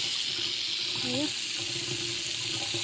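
Water running steadily down a stone basin, a constant close rush with a brief faint voice-like tone partway through.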